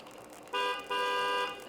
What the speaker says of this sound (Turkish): korna sisteminden korna yapabiliyorsunuz böyle